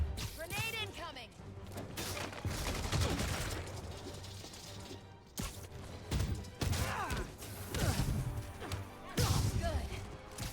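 Gunfire and a grenade blast in the Marvel's Spider-Man video game make a dense, loud barrage of shots and thuds that runs steadily throughout, with characters' voices shouting over the combat.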